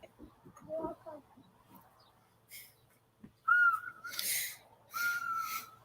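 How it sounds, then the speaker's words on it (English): A whistle blown in short, shrill bursts, a brief tone followed by two louder blasts near the end, after quiet indoor murmur and a few faint vocal sounds. "He found his whistle."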